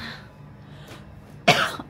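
A single sharp cough, close and fairly loud, bursts out near the end after a stretch of quiet background hiss.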